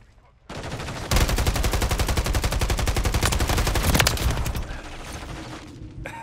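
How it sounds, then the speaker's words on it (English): Sustained automatic gunfire in the multiplayer video game Call of Duty MWIII, a loud, rapid rattle of shots that breaks out suddenly, runs for about three and a half seconds, then drops away into quieter game noise. "All them goddamn bullets, I goddamn shot out there"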